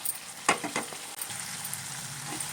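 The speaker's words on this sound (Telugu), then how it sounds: "స్టవ్ని మీడియంలో పెట్టి వేపుకోవాలండి" Paneer curry gravy frying in a pan on a stove over medium heat, a steady close sizzle with a few louder stirring scrapes near the start, no talk.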